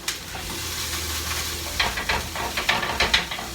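Browned meat going back into a pan of sauce for a keto Italian meat pie, with a soft steady sizzle and then a run of scraping stirs that grow louder and more rhythmic toward the end.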